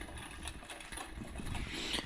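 A Toyota KE70 car engine runs steadily with a rough, broadband mechanical drone and faint rhythmic pulsing, fairly close, no voices.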